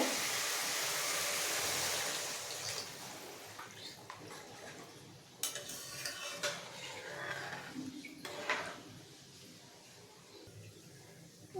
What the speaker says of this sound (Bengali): গ্রেভিটা ফুটতে শুরু করেছে